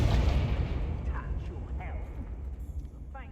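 Confringo fire-blast spell cast in Hogwarts Legacy, a loud booming burst at the start that rumbles and decays under continuing game noise, with a voice speaking over it.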